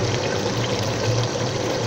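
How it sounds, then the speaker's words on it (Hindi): Water is poured into a cooking pan of chickpeas, a steady close splashing pour lasting a couple of seconds with no voices. "अब हम इसके अंदर पानी डाल देंगे।"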